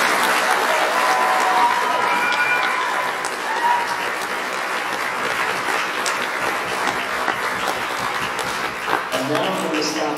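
A large audience at a holiday band concert applauds steadily for young performers, a dense sustained roar of clapping with some crowd noise, easing slightly toward the end.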